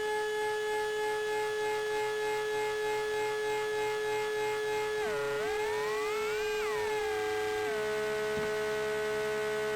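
Buzzy Klavis Twin Waves MK2 dual-oscillator synthesizer tone with layered harmonics drones steadily, then bends and warbles as a second modulation sweeps through before settling into a new pitch.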